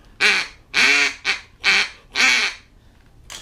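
A duck call blown in five loud, close, nasal quacking bursts, the first four evenly spaced and the last one longer, imitating a duck, with short silent gaps between them.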